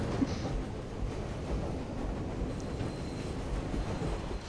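A train in the Harry Potter and the Prisoner of Azkaban video game rumbles steadily on its tracks, a continuous low rolling clatter with a faint wheel squeal and no voices.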